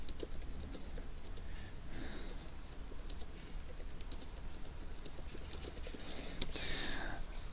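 Typing on a computer keyboard while writing a blog post, a steady patter of light key clicks running throughout at a modest level with no talking.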